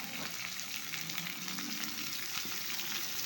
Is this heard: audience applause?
no